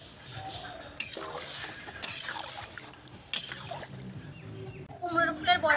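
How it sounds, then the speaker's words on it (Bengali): Water poured into a pan of fried pumpkin in a home kitchen, heard as short splashing, trickling bursts mixed with light clatter from the pan and utensils. "এখন জল দিয়ে দেবো।"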